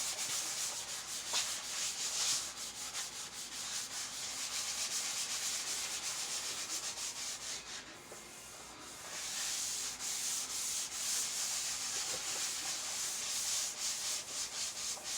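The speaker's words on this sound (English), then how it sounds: "this is just scuffing it up" Small epoxy-primed parts from a 1970s Trans Am are scuffed by hand before painting: a continuous, close, gritty sanding rasp that runs without pause except for one brief lull midway.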